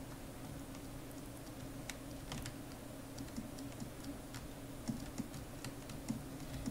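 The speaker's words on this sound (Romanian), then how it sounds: "Băi, bine că e tastatura silențioasă." Soft, rapid typing on a quiet computer keyboard, a steady patter of faint key clicks with occasional louder taps over a low background hum, recorded during a Minecraft game session.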